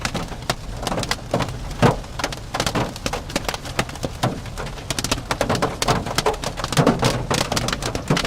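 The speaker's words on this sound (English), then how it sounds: "Right now we're punching into the hail core, probably hail up the golf ball size here now." Hard golf-ball-sized hail pelts a storm chase vehicle in a severe thunderstorm near Sturgis, a dense, loud barrage of sharp irregular impacts drumming continuously on the vehicle.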